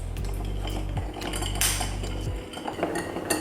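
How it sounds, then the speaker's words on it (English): A Boulevardier of Weller Special Reserve bourbon stirred over a big rock of clear ice: a spoon clinks and knocks against the ice and glass over a low steady hum, with a louder rattle midway. "Then we'll just add in our ice and give it a stir."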